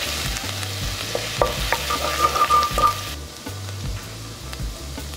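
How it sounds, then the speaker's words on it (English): About a tablespoon of minced ginger sizzles in a tablespoon of hot sesame oil, a steady crackling fry with a few sharp stirring clicks, then it quiets a little near the end over soft background music. "heating up about 1 tablespoon's worth of sesame oil. 1 tablespoon of minced ginger."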